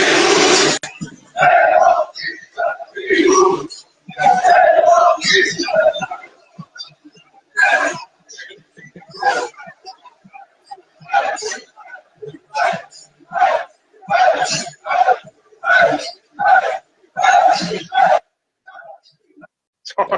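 A large arena crowd at WWE Backlash in France chants and roars for Jey Uso in loud, regular bursts about once a second, building into a steady rhythmic chant.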